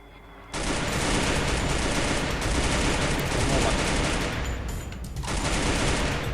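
Rapid bursts of automatic gunfire crackle almost nonstop in a Free Fire battle royale match, loud and dense, cutting out briefly near the end.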